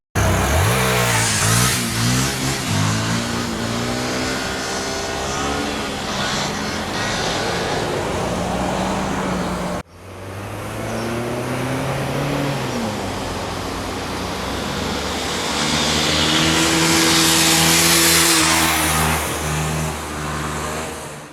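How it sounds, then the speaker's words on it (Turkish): A Yamaha WR125R motorcycle engine revs hard during a torque test, its pitch climbing in loud rising sweeps, dropping briefly, then building again to a strained high roar close by. "Şimdi motor birinci testte bütün torku gömüyor. Debriyajı tuttun, gazı saldın bir salıyorsun."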